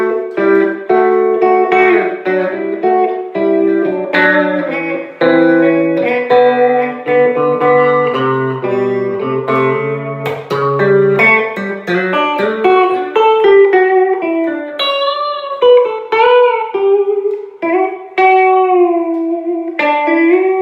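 An electric guitar fitted with DiMarzio Super Distortion and Super 2 pickups plays a continuous melodic passage of sustained, overdriven notes and chords, loud and up close with no talking.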